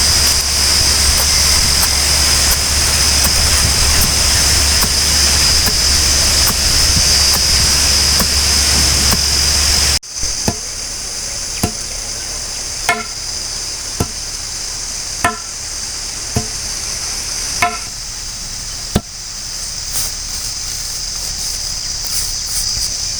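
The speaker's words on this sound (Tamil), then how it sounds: "இப்போ அந்த பெருங்காயத்தூளையும் நம்ம உள்ளே சேர்த்து அப்படியே இடிச்சுக்கலாம்" Spices and asafoetida being pounded for idli podi, heard as a series of evenly spaced sharp thuds after a stretch of loud hissing noise, with the pounding strokes clear and moderately loud.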